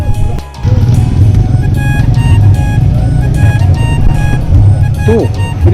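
Motorcycles set off on a Himalayan ride toward Sach Pass, a close, loud engine rumble that swells after a brief dip and holds steady, with a voice speaking near the end.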